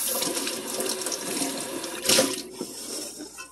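Water runs from a kitchen sink tap as a sponge is rinsed under it, a steady close splashing stream with a short louder gush toward the end, and no voices.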